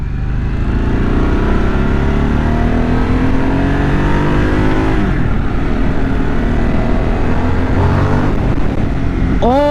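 A 2023 Harley-Davidson Sportster S engine revs loudly and continuously nearby, pitch rising and falling as the throttle opens, with a sharp rising whine at the end.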